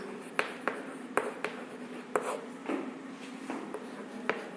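Chalk or marker scratching across a classroom board in short irregular strokes with sharp taps between them, close and moderately loud, with no speech.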